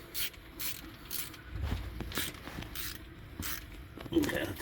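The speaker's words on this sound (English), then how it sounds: "You need a 1/2 inch socket or wrench." A 1/2 inch socket wrench turning a bolt while a timing chain, sprocket and cover are replaced on a stalling vehicle, giving quiet repeated ratcheting clicks in short bursts, close up with faint speech-like noise in the background.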